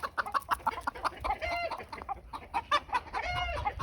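Backyard chickens cluck and squawk in agitated, overlapping bursts, fairly close, with a rooster-like crowing note among them and no talking.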